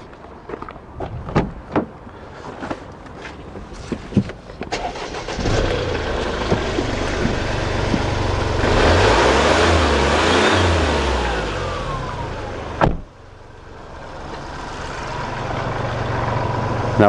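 A 2011 Kia Rio 1.1 diesel three-cylinder runs rough and fumey, with uneven knocks at first, then a loud revving swell that drops back to a shaky idle.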